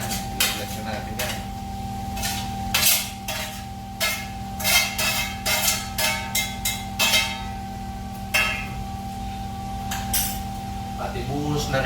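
Beef skin goes into a pot of sautéed garlic, onion and ginger, bringing repeated metallic clanks and scrapes of a utensil against the pot over a steady low hum, with a voice talking at times.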